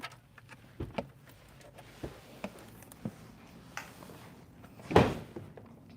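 A 2025 Hyundai Tucson XRT rear car door opens with a loud latch clunk and thump near the end, preceded by several light clicks and taps in a quiet interior.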